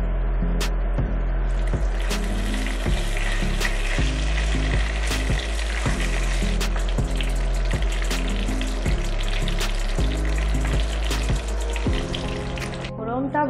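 Whole cumin and bay leaves crackle in hot oil for cabbage curry, a loud close sizzle with repeated sharp spattering pops and stirring, ending in a brief pause.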